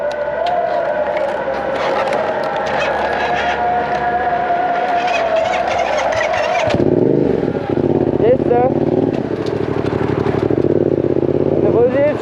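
A motorcycle engine fires up and runs, rumbling loudly up close with uneven revving and clatter, and a voice is partly heard over it.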